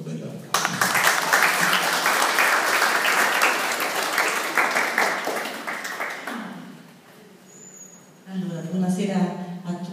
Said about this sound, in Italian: accogliamo con un bel applauso